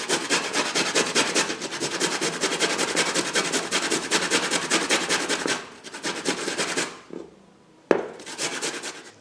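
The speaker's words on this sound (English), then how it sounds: "Then we are going to grate those ginger." Fresh ginger is rasped on a grater in rapid continuous strokes, loud and close for several seconds, then the scraping slows into a few shorter passes with brief pauses.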